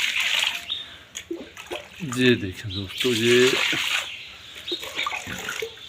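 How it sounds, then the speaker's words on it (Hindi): Water is poured and splashes onto goat fodder material, a continuous broadband rush with brief gurgles, heard under someone speaking. "तो अब हम इसमें पानी डालेंगे"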